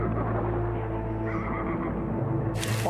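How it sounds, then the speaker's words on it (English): Horses neigh and whinny in a scene from the TV series Firefly, a single prolonged call over a dense, steady background bed of music and ambience. "Horses! I love horses."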